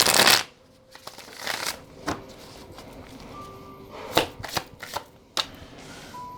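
A tarot card deck is shuffled up close: a loud riffle at the start, then scattered crisp slaps and flicks of cards at irregular intervals.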